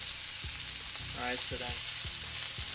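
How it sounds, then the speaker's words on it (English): A steak sears in a hot frying pan as tongs press it down, giving a steady bright sizzle with a few soft scraping and clicking contacts, close and alone. "gently push your steak down so it has full contact with the pan"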